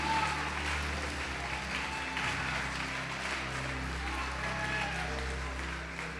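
A crowd applauds continuously with steady clapping, while a low murmur and some voices carry underneath.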